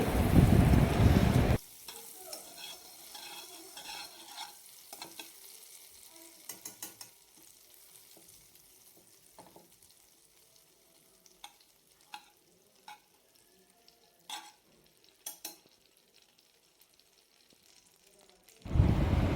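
Maida flour being stirred into melted butter in a pan, a soft faint sizzle with scattered scraping and clicking of a spoon against the pan, bracketed by louder bursts of handling noise at the start and end.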